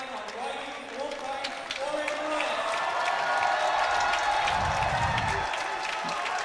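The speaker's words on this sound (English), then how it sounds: "this crowd is on their feet, and you can hear the chants of MVP" A basketball crowd at a college men's game rises to its feet, cheering and chanting MVP in a loud, sustained roar of many voices, with an announcer's voice running over it.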